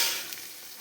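Soybean chunks fry in a pan, a short soft burst of sizzling and stirring that fades slightly over under a second, heard alone without voices.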